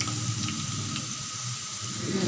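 Potatoes frying in a pan with browned onions while making tahari rice, a steady hiss and sizzle at moderate level throughout with no talk.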